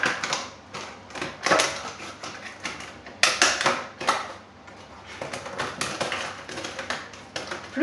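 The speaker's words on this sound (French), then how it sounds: "vous allez venir couper avec les ciseaux" Scissors snip through a plastic container lid in a kitchen, making a series of close, irregular crisp cuts and crackles with short pauses between them.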